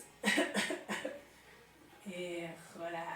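Three quick coughs up close, followed by a short pause and then a voice speaking.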